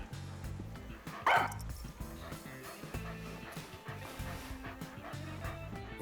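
A dog in the video game Master Detective Archives: Rain Code gives a brief bark or yip near the middle, heard over steady in-game music.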